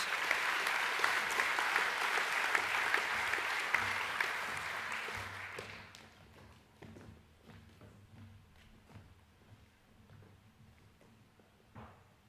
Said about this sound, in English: Please give a round of applause for the Year 10 Academic A winners